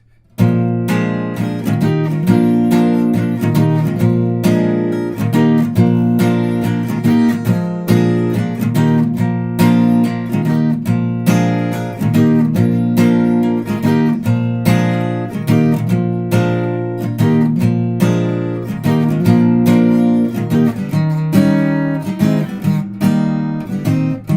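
Funky rhythmic guitar chords from the bridge section of a song with a steady groove play continuously and loud, with busy strummed accents and no talking.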